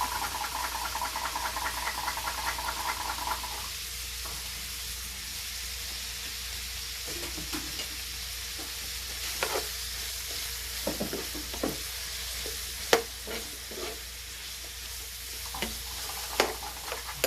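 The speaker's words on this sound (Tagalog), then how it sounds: "We're going to add all the remaining onions." Small onions and garlic sizzle and fry steadily in a pan for Filipino beef steak, with a louder burst at first, then sharper stirring scrapes and occasional knocks over a continuous hiss, close by and with no voices.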